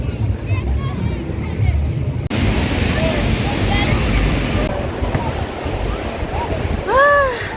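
Waves and wind at Labadi Beach on Christmas Day, a continuous rushing surf with gusty wind noise buffeting the microphone, and faint chirping sounds rising briefly near the end.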